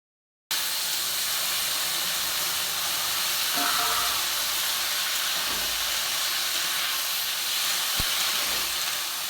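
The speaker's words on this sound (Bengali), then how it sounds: "অল্প একটু পাঁচফোড়ন দিয়েছে দিয়ে লঙ্কাটা দিয়ে এবার ফোড়নটাকে ভালো করে একটু ভাজা ভাজা করলো" Cumin seeds, five-spice (panch phoron) and chili fried as a tempering in hot oil give a steady, fairly loud broadband hiss and sizzle throughout, with a few faint clicks and pops and no talking.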